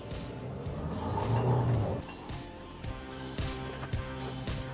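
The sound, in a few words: SsangYong Tivoli diesel car accelerating, traction control engaging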